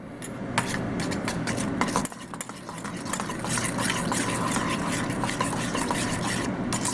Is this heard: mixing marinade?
yes